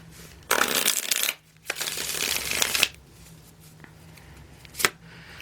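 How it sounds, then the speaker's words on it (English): Cards are shuffled in two quick riffling bursts, crisp and close, followed by a soft tap and quiet. "One more shuffle."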